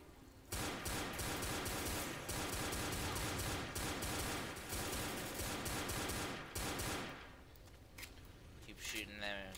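Sustained automatic gunfire at zombies in Left 4 Dead, loud rattling bursts running almost nonstop for several seconds before thinning into scattered shots, with a voice speaking briefly near the end.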